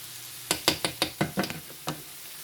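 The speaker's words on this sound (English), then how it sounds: "Let it fry up." Vegetables cooking in butter on a stovetop for Southern dressing, heard as a series of about eight sharp scraping stir strokes over a soft frying background, close and fairly loud.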